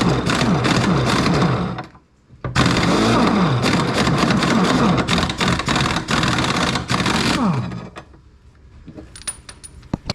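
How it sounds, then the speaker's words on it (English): Pneumatic impact gun rattling off the blades of a zero turn mower, loud and close in long dense bursts with a brief pause near two seconds, fading to quieter clicks at the end. "Let's see if our impact gun will fit under here"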